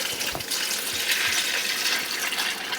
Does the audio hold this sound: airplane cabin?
no